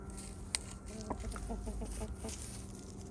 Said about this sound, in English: There's the big fella, the rooster himself.